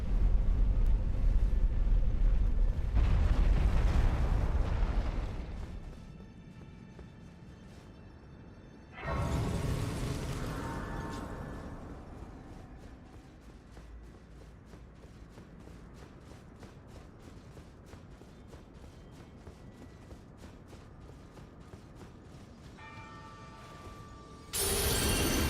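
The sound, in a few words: elevator ride rumbling and creaking in the video game Elden Ring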